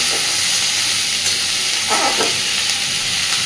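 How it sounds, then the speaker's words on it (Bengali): Potatoes fry in a pan and are stirred, giving a loud, continuous, close sizzle with brief scraping sounds from the stirring. "আলুটাকে মিনিট দুয়েক এর সাথে ভালোভাবে ভেজে নেব।"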